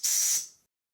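A Mamod toy steam whistle blown with compressed air gives one short, dry, hissy burst of about half a second, then cuts off sharply into silence.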